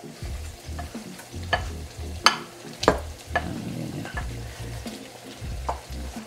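Eggplant cooks in a pan of pork binagoongan, sizzling while a utensil scrapes and knocks against the pan in irregular stirring strokes, close and fairly quiet, with no talk.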